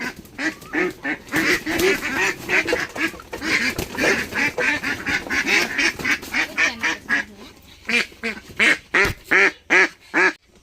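Ducks on a duck farm quack loudly and rapidly while being caught, a dense chorus of harsh calls that thins toward the end into separate, evenly spaced quacks close by.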